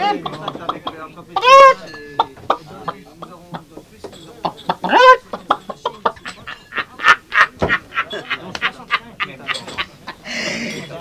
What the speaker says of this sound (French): Hein, il y a même les poules.